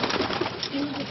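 Racing pigeons cooing in a loft in northern France, a steady murmur of soft overlapping coos from many birds close by, continuous throughout.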